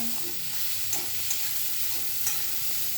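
Chopped garlic and green chili fry in hot oil with a steady, loud, close hiss, broken by a few soft clicks of stirring.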